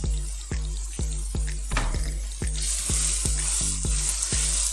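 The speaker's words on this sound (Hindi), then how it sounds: "क्योंकि अब प्याज जो है अपना पानी छोड़ेगा, तो इस वजह से इसको हमने अच्छी तरह से फ्राई करना है।" Chopped onions fry in a hot pan for a stuffed capsicum dish, crackling and sizzling loudly with a steady rhythm of regular bursts, close up and alone.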